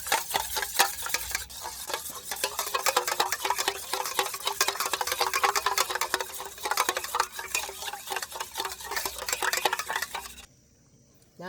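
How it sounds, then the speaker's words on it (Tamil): Salted dosa batter being stirred briskly, a fast, steady run of wet scraping and clinking strokes close up that continues without pause, then stops abruptly near the end. "இப்போ நாங்கள் நல்ல வடிவாக கலக்கி எடுப்போம்."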